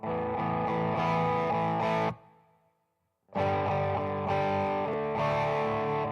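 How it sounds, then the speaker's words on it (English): Distorted, high-gain electric guitar played through a Tube Screamer with subtle TC Hall of Fame reverb, loud rhythmic chords that stop briefly and leave a short reverb tail decaying to silence before the playing resumes. "Really subtle reverb."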